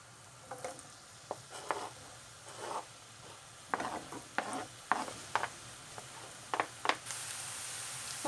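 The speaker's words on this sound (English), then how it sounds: "Put our onions in first." Diced onions stirred in a hot pan, soft sizzling beneath repeated scraping and clinking of a utensil against the pan, irregular strokes close by with no talking.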